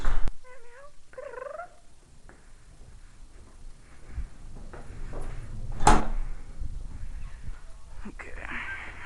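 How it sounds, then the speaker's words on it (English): A cat purring close by, a soft steady rumble under brief meows near the start, with a sharp click or knock partway through and light rustling near the end. "kitty."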